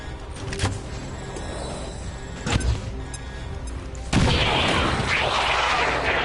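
A grenade goes off in XCOM 2, a loud burst that turns into a sustained rumbling roar late on, after a few sharp thuds and impacts earlier against a busy game background.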